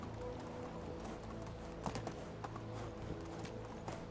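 Horse hooves clip-clop in the medieval village game Medieval Dynasty, a quiet, steady rhythm of taps over a droning background of ambient game sound.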